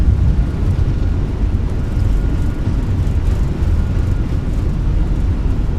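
Airbus A321 with sharklets in Microsoft Flight Simulator 2024, thrust reversers deployed on the landing rollout, a loud, steady low engine roar with a continuous rumbling texture and no voices.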